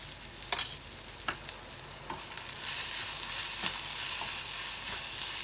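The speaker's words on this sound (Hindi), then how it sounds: "कनी देर एकरा और भूज लेबै।" Onion and spices with garam masala frying in a pan for jhimni (ridge gourd) sabji, a steady hiss of sizzling with scattered stirring scrapes, growing louder and denser midway.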